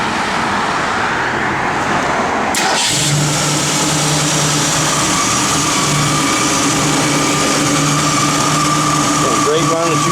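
Rebuilt 260 V8 in a 1964 Ford Falcon Futura convertible idling steadily and loud, with a sharp start a few seconds in, then a low, even rumble that carries on, faint road noise around it.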